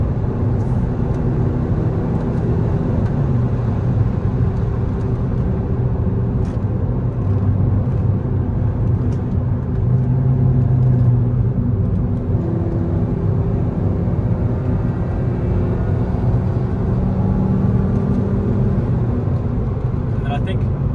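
A 2011 VW Jetta with the 2.5 engine drives along a mountain road in autumn, with a steady low engine and road drone heard from inside the cabin while someone talks over it.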